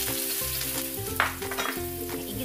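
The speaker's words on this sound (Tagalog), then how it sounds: "Ayan, igigisa natin yung ating bawang." Garlic sautéing in hot oil in a wok for Bicol Express, a steady close sizzle and crackle throughout with a brief louder spit near the middle.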